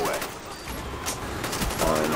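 Rapid bursts of gunfire from a first-person shooter video game, dense and loud, with overlapping shots across a short stretch.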